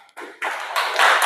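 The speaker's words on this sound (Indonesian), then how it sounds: "Tepuk tangan untuk kelompok 1." Applause for a group of students in a classroom lesson, a short burst of hand clapping that grows louder in steps over about a second, close and dense, with no talking.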